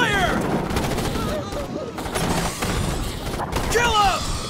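Gunfire in the Starship Troopers video game, rapid automatic bursts and sharp shots mixed with shrill creature cries and mechanical clatter, loud and busy, with voices shouting amid the fighting.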